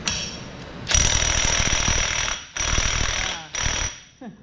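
An impact wrench hammers at an engine bolt on a Mazda RX-8 engine in three loud bursts, a rapid rattling whine that stops and restarts, close by.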